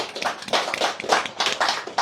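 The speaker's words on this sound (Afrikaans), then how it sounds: "Kom ons gee hulle eers 'n lekker hande klap" An audience giving a round of applause, hands clapping steadily at close range in an irregular patter that stays even in loudness and ends abruptly.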